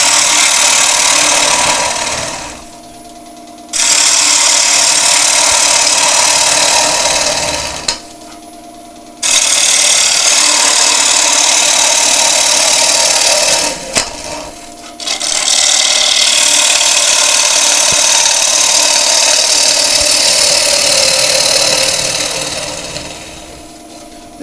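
Wood lathe turning a kintsugi bowl filled with resin, the gouge rasping loudly and harshly against the spinning resin and timber in long cuts broken by brief pauses.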